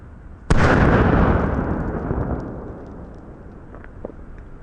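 A 37mm launcher fires a shell outdoors with a single sudden, loud blast close by, followed by a long rumbling decay that fades over several seconds.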